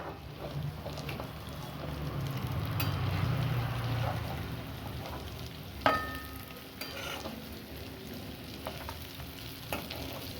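Oil with water in a pan for paneer Maharani, cooked without onion or garlic, frying and foaming with a soft, steady sizzle and bubbling, with occasional stirring clicks and a brief clink.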